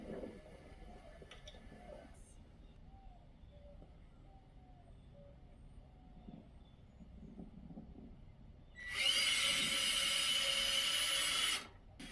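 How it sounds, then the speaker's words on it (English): A power drill whirs loudly for a few seconds near the end, making pilot holes or driving wood screws into the back of a wooden board-and-batten shutter, after quieter handling noises in a workshop. "So I'm going to make my pilot holes on the back side and then use my wood screws and screw these into place"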